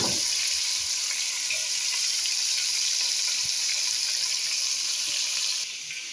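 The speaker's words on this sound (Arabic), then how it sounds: "همتين اخليهم ينحنسون الى ان ياخذون اللون الذهبي" Onions fry in a pot as they turn golden, giving a steady, dense sizzle that holds close and even throughout with no voices.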